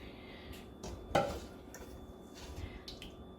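Beans are ladled from a metal cooking pot into a bean crock in a home kitchen: soft scraping and clinking of a utensil against the pot, with one sharper knock, all fairly quiet and without talk.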